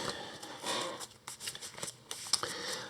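A deck of challenge cards for the solo Earthborne Rangers board game is shuffled by hand, giving quick papery riffles and flicks in short bursts, close up and fairly quiet with no talking.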